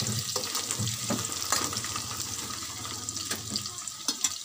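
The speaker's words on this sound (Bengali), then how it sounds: "পেঁয়াজটা একটু ভালো করে লাল লাল করে ভেজে নেব।" Onions frying in a small amount of oil after tempering spices, for a Bengali mutton curry: a continuous crackling sizzle with intermittent stirring clatter and scrapes in a home kitchen.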